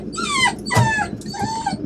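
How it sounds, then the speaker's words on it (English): Dog at a campsite giving a few whining yelps and whimpering cries in quick succession, close by and fairly loud, with no talk over it. "He's got 3 lovely dogs just ambling about."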